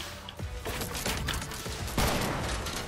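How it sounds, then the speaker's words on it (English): Gunfire in the Fortnite video game: rapid, fairly quiet volleys of shots crack in bursts, with a sharper report near the end, amid game ambience. "Someone's shooting."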